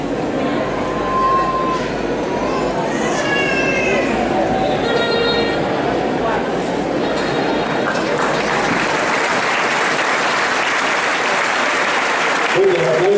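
Sustained applause for new graduates at a school graduation ceremony, a dense, loud crowd clapping throughout with some whistles and voices mixed in.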